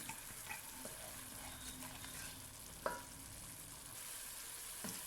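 Korma spice masala fries gently in a pan. A faint, steady sizzle is broken by a few soft clicks and one sharper knock of a spoon against the pan, and no one speaks.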